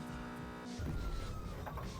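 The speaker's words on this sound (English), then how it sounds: "the engine sound effect comes back" Car engine effect from the arcade racing game San Francisco Rush 2049 Tournament Edition, a steady synthetic motor drone that kicks in loudly partway through over game music tones.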